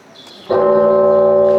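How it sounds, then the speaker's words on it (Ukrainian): A large Orthodox church bell strikes once after a quiet moment and its deep, ringing tone sustains loudly, humming on without fading. "Лунає православних храмів дзвін."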